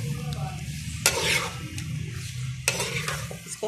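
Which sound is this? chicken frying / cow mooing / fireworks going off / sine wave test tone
chicken frying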